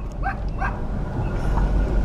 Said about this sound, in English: does that look a little dog up there?